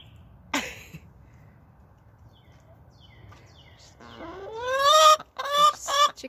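Freedom Ranger chickens in a farm enclosure with electric poultry netting, a few close clucks and rising calls building toward the end after a sharp early sound, against a quiet background.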